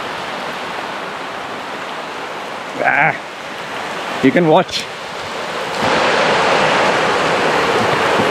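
Heavy rain pours down in a dense, steady hiss and grows even louder toward the end, while someone speaks briefly over it.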